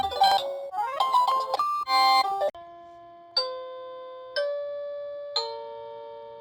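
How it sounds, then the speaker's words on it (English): Doorbell chime from a wireless home motion sensor alarm, playing a bright multi-note melody and then three separate single ding tones, each ringing out and fading in a quiet room. "Let me go back to the doorbell."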